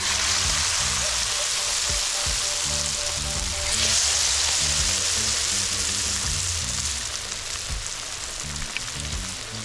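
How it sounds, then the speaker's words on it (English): Conch pieces coated in butter sizzle and fry steadily in a pan outdoors at a Jamaican riverside cooking session, a continuous close crackling hiss, with a low rumble and faint background music underneath. "so I coat the conch in the butter"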